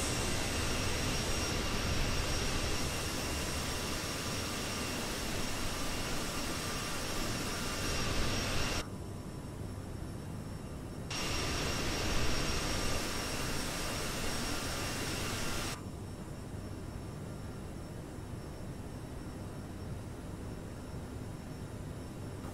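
A jet airliner's engines drone through a climb in Microsoft Flight Simulator 2020 on a stormy Stockholm to Visby flight: a continuous, loud broadband roar that drops in level twice and resumes in between.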